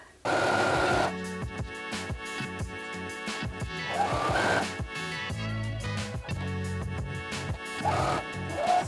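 A sewing machine stitches a pocket onto knit shorts in quick whirring bursts separated by brief pauses and clicks, close up and fairly quiet.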